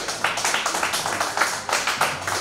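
A comedy show audience claps steadily and briskly for a couple of seconds, a dense patter of many hands without cheering.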